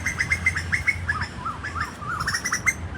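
A bird that is not a dove calls repeatedly on a street in Sukhumvit, Bangkok, with short chirping notes in quick bursts over steady low traffic rumble, fairly near and clear throughout.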